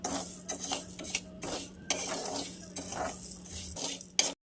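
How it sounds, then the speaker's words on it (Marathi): Sago and barnyard millet dry-roasting over a low flame, heard as intermittent scraping and rattling of a spatula against the pan in short bursts with quiet gaps between, no sizzle and no voices. "आता मी ह्याला दोन्ही मिक्स करून भाजून घेणार आहे. बारीक गॅसवर भाजून घेणार आहे मी."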